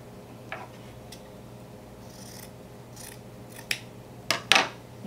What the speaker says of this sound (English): You cut off the toe and it looks like this.